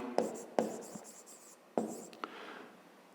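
Handwriting during a math exercise, with short scratchy pen or chalk strokes in several close, quiet bursts and small taps between them, without speech.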